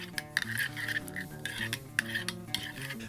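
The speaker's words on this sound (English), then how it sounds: "Stir that around." A spoon stirs lime juice through a bowl of pulled chicken smoked on a Pit Barrel Cooker, with steady scraping and clinking against the bowl for a few seconds, close by and with no talk.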